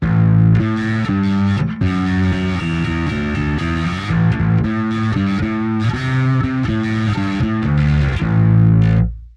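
Driven, effects-heavy bass guitar through a Kemper Profiler, analog octaver and studio EQ off, plays a busy, rhythmic riff with a thick, gritty tone, steady and loud throughout with no talking.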